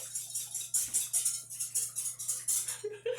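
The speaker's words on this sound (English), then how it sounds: "I've got 2 egg whites in my bowl here that I'm just going to whisk and kind of get a little bit frothy" A whisk beats two egg whites in a bowl until frothy, quick regular scraping strokes with a rhythmic swish about four times a second, close and clear, with a brief clink at the end.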